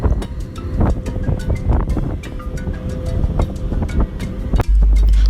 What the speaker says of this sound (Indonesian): kita duduk di bagian atas perahu dan anginnya itu kencang banget deh